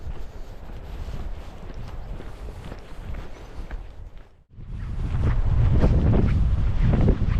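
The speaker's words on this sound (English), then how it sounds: "It's a bit windy out here, Elli-Boo." Gusty wind buffets the microphone on a walk through Rempstone Forest, a steady broadband roar that briefly drops out, then returns louder and rougher, with no talking.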